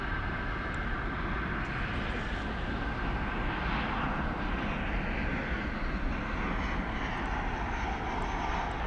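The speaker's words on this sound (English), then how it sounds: "An Alaska Airlines jet about to touch down." An Alaska Airlines jet about to touch down at DFW Airport at night makes a continuous engine roar with a faint whine on top, steady and moderately loud with no voices.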